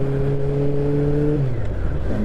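An Aprilia Shiver motorcycle engine held at a steady, loud droning rev that drops in pitch partway through, heard up close with no voices.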